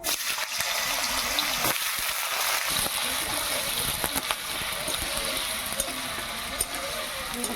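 Cinnamon, cloves, bay leaves and small diced potato go into a little hot oil, making a loud, rushing sizzle with scattered pops and clatter, and a voice faintly underneath.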